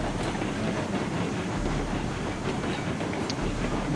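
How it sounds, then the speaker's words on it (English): A small steam locomotive pulling a train in the video game Railroads Online, worked hard at full throttle; a steady, moderately quiet rolling rumble with faint rhythmic chuffing and clatter, heard alone with no talk. "How far can I push this little locomotive before it craps out?"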